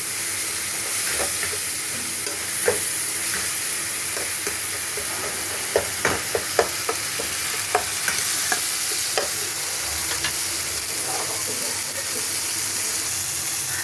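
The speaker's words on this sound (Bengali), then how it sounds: "মশলাটা ভালো করে কষিয়ে নেব" Spice paste for a surmai fish curry fries in a pan with a little water added, hissing and sizzling steadily while a spatula scrapes and taps in irregular strokes, up close.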